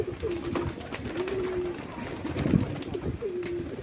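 Pigeons coo repeatedly outdoors after being released into the open sky, soft low calls recurring every second or so over a steady hiss of ambient noise.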